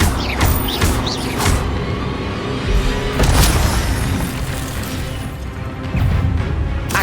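Incendio fire spells are cast repeatedly in the Hogwarts Legacy video game, producing loud booming whooshes and crackling bursts that strike several times in quick succession over a dense rumbling background, with no voices.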